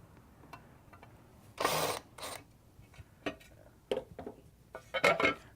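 Sporadic clicks, clatters and rattles come from a TriTech T5 sprayer unit as screws and the motor housing are removed, with several brief bursts of handling noise separated by quiet gaps, close by and with no talk.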